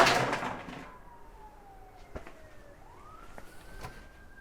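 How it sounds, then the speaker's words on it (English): A siren wails faintly in the distance, a thin tone slowly sliding and rising, after a brief burst of rustling nearby. "Waiting for sirens."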